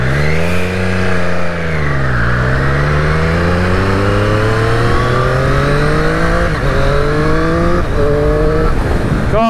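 A 2020 Triumph Street Triple RS motorcycle engine revs hard and climbs through several quick gear changes, each one dropping the pitch before it rises again, loud and close with no talking.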